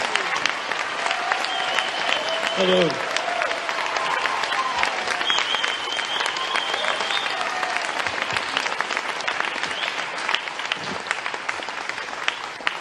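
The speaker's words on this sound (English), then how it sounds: "give him a warm round of applause" Warm, sustained applause from an audience after a talk by someone, steady throughout, with a few voices murmuring under the clapping and one brief spoken greeting.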